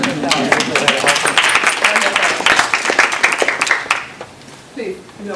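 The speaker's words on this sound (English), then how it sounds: "give yourself a round of applause" An audience at a New York think tank session on retail breaks into clapping, a dense burst of many hands that runs for about four seconds before fading, with a voice starting to speak as it dies down.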